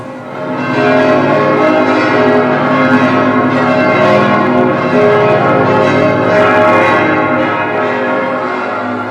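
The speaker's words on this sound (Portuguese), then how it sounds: "Os sinos da igreja de Munhano foram tocados para anunciar o milagre a toda a cidade." Church bells at Mugnano ring out loud and close, overlapping strikes blending into a continuous, rich pealing that swells and holds for the whole stretch.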